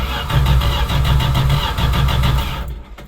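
The starter on a 1976 Plymouth Duster cranks the engine in a fast, even chugging rhythm for a few seconds without it catching, then cuts off into near silence.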